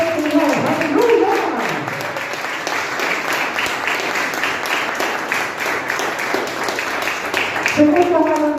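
A church congregation applauds warmly and continuously, a dense wash of clapping that carries on loudly, with a preacher's voice briefly heard at the start and end.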